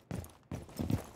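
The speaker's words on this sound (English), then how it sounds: "I hear a lot of footsteps near this tubing." A few quick footsteps in Rainbow Six Siege, soft and close, two or three muffled steps in a short burst.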